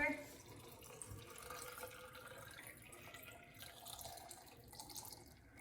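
Tap water runs into a jar packed with cucumbers and onion for lacto-fermented pickles, a faint, steady trickling stream, with a quiet voice in the background.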